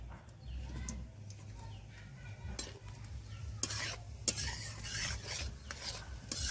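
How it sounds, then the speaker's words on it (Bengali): Whole cumin seeds crackle and sizzle as they hit hot oil in a kadai, with a steady frying hiss, scattered sharp pops and a low continuous hum underneath. "দিয়ে দেবো গোটা জিরে"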